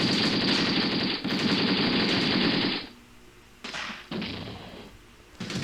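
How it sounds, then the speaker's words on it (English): In the Graviteam Tactics war game, an RPG strikes a Soviet APC in the Afghan War amid a sustained roar of rattling gunfire. The noise then drops to quieter thumps and short blasts. "Nice hit. That's an RPG for sure."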